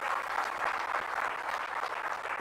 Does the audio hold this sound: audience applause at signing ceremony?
yes